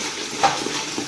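Ginger, garlic and coconut frying in a pan outdoors, a brief burst of hissing sizzle with a light utensil tap or stir, close by and without speech.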